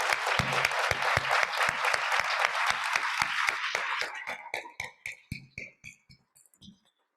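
Applause for honorees at a League of Women Voters celebration, a crowd clapping steadily before thinning out into a few scattered, separate claps that trail off to silence.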